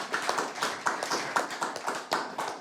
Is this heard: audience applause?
yes